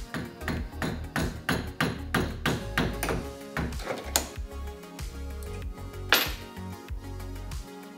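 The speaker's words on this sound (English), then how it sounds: "you hammer the handle on until you have the length of blade you need" Repeated hammer taps drive an awl handle onto a blade clamped in a vise, a steady run of sharp, close blows at a brisk rhythm with a few louder strikes near the end.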